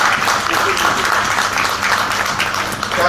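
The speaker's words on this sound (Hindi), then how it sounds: "तो अभी खुद के लिए तालियां बजाओ।" An audience at an indoor talk on infertility applauds, dense continuous clapping filling the room at steady loudness throughout.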